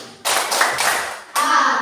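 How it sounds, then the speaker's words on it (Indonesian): Schoolchildren in a classroom clap together in a rhythmic concentration pattern, a few loud, sharp group claps in quick succession, close and with no talking. "Tepuk konsentrasi."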